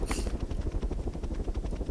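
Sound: helicopter in the video game Arma 3

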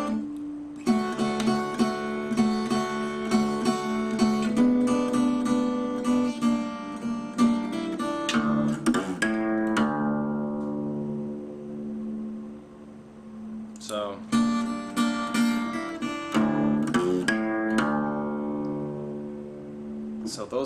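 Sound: Guitar chord sequence and bass notes

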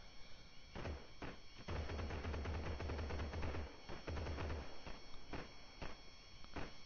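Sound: gunfire in the video game Gangstar New Orleans

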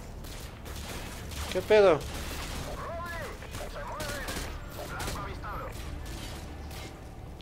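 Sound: gunfire in video game Call of Duty Modern Warfare 2

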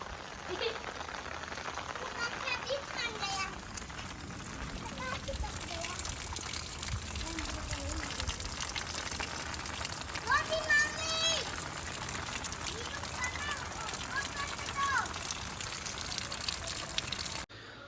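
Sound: rain falling

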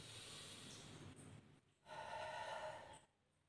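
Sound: slow deliberate breathing exercise, exhaling

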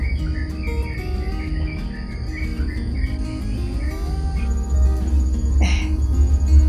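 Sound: birds chirping in morning garden

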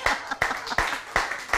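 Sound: audience applause

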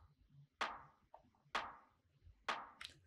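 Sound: snare layer sample in house track

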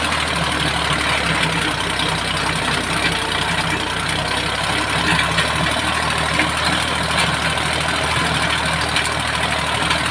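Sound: Kubota L2000 small tractor engine running in fourth gear

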